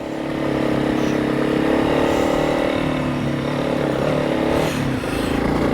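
A Honda CRF 300 Rally motorcycle climbs an uphill dirt track in second gear, its single-cylinder engine droning loud and close under steady throttle, with a brief dip near the end.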